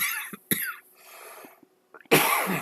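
A person coughs several times close up, short harsh bursts with pauses between, ending in a heavier, louder cough.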